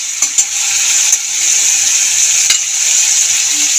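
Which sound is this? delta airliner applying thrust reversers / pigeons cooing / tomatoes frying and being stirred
tomatoes frying and being stirred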